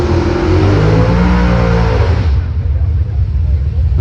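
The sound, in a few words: turbocharged Mopar drag car engine revving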